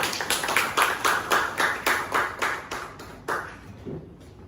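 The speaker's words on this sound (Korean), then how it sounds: "큰 박수로 환영해 주시기 바랍니다." A modest seminar audience at a joint think-tank policy session claps in a rhythmic, evenly spaced pattern of distinct beats, moderately loud and close, thinning out and fading to near silence after a few seconds.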